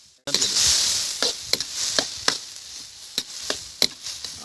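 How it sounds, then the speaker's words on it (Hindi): A spice mixture fries in a pan while a utensil stirs it with steady sharp scrapes and knocks over a soft background sizzle, close and fairly loud, with no speech. "आपने इस तरीके से मिक्स करना है और भूनना है इसको"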